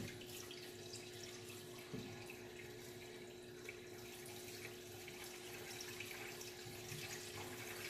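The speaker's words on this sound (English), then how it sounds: "As you can see, the water's running right through it." Tap water runs through a Wagner Smart Roller paint tool during cleaning, a faint, steady splashing flow with small gurgles, continuous and close.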